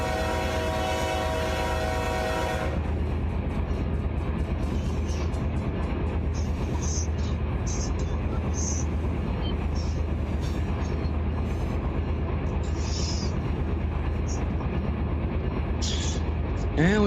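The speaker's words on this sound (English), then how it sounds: "and we've got another train coming." A train approaching in the railroad simulator game RUN8, with a steady low rumble of rolling cars and engine throughout, a horn-like tone at the start, and faint intermittent squeals above, loud and continuous.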